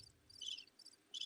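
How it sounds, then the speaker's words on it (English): Faint crickets chirp in short high bursts, three trills over about a second, quiet and alone without talk. "Been waiting for the crickets."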